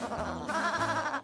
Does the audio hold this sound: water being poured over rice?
no